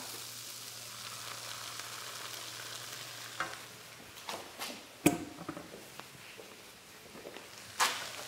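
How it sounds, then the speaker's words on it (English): Noodles and vegetables being stirred in a hot pan: a soft steady sizzle with scattered scraping clacks of the utensil, the sharpest about midway and another near the end, and no talk. "So I'm going to stir our noodles in with our veg now."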